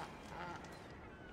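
A honking waterfowl, a duck or a pelican, in the Horizon Forbidden West video game gives a brief, faint quack-like call over soft background noise.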